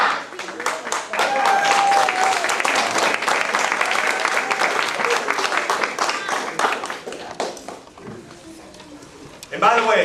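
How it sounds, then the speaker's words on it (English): An audience claps at a martial arts belt ceremony in a family martial arts center, a burst of lively applause that swells and then fades out, with a voice speaking over it. "Give her a big round of applause!"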